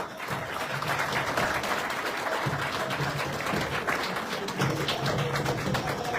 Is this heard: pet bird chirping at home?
no